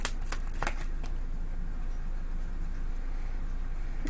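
Tarot cards being shuffled by hand, a few quick papery riffles near the start followed by a steady soft hiss of room noise, with no talking.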